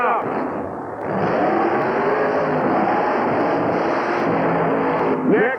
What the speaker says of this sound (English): everybody's here ready for the big funny car action that's coming up